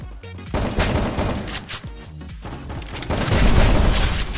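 In the game Free Fire, a dense run of gunshots and booming impacts crackles and thumps continuously, loud and near, with no talking over it.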